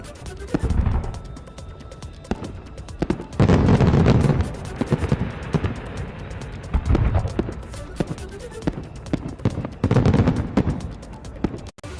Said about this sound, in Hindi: लेजर लाइट शो के बाद गंगा घाट पर भव्य आतिशबाजी का भी दिखा नजारा